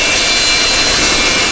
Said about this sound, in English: Enter one of the world's biggest aircraft, a Russian Antonov AN-124 cargo jet